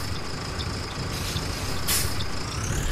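A Neobus Mega Plus 2013 bus on an MB OF-1721 chassis in the OMSI 2 simulator releases its air brake with a brief hiss over a steady engine rumble as it pulls away.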